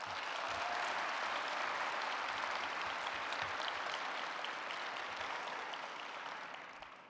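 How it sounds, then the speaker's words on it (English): Audience applause at a high school graduation commencement ceremony, a dense, steady wash of many hands clapping that carries on for several seconds before easing off at the end, with no talk over it. "Students, please, please give your family members a well-deserved round of applause."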